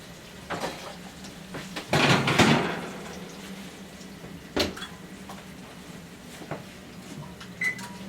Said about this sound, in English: I'll reach over here real quick and take this out the oven